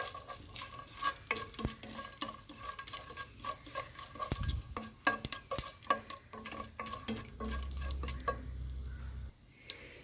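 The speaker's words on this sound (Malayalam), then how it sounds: "ഇനി ഇതിലേക്ക് ഒരു 5 ഏലക്കായ, 5 ഗ്രാമ്പു, 1 കഷ്ണം പട്ട, പെരുജീരകം, സ്റ്റാർ എല്ലാം ചേർത്ത് ഒന്ന് വഴറ്റിയെടുക്കാം." Cardamom, cloves, a piece of cinnamon, fennel seeds and star anise sautéed in a pan for a Kerala-style mushroom biryani: soft sizzling under frequent sharp clicks and scrapes of a spoon stirring against the pan, close and moderately quiet.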